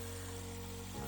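A whole fried fish going into a small frying pan, the oil hissing in a steady, close sizzle that shifts in tone near the end as the fish settles.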